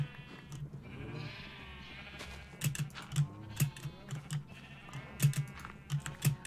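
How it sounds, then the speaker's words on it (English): Sheep in the Minecraft video game bleat repeatedly, short wavering cries recurring at an irregular rhythm over a soft background hum with faint clicking, no talk heard. "the sheep are gonna have to stay alive because I have to shear them"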